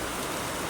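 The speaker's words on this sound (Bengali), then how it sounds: "এই যে বৃষ্টি নামছে" Rain falls steadily outdoors as a dense, even wash of hiss with no distinct drops or pauses, moderately loud and unbroken.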